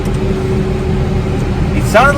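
A tractor engine drones low and steady, heard from inside the cab in the evening, while someone talks over it throughout.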